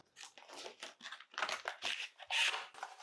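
Packaging around a boxed, never-opened 10-inch G Pad attachable keyboard is torn and crinkled open in a quick series of close, sharp rips and rustles with short pauses between them, and no talking.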